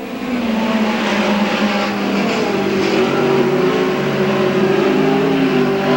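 Midget race cars running nose to tail on a dirt track at Belleville make a steady, loud engine roar with rising and falling pitch as they pass close by, no speech.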